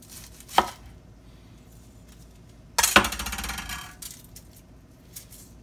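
A knife chops an onion on a cutting board for chicken and cornbread dressing. There is a sharp single knock early on, then a louder burst of quick chopping strokes midway, with quiet in between and no talk.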